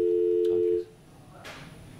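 A telephone busy signal, heard after a lost phone connection during a live broadcast, sounds a steady tone near and loud for under a second before stopping, leaving faint background noise with a brief hint of voice.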